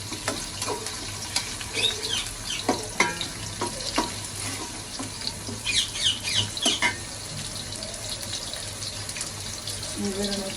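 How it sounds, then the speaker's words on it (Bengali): Onions sizzle in hot oil with bay leaves and whole spices for biryani while a spatula scrapes and taps the pan in irregular bursts, close and fairly loud. "পেঁয়াজটা ভাজা হয়েছে"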